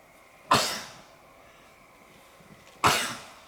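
Two sharp, loud sneezes from a person at an evening talk event, spaced a couple of seconds apart with quiet room tone between.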